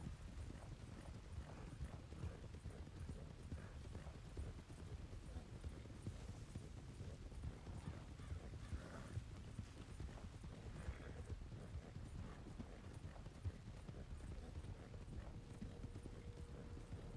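Horses trot in a Red Dead roleplay game, hooves beating a fast, steady clip-clop rhythm over a long stretch, quiet and continuous, with an occasional faint whinny.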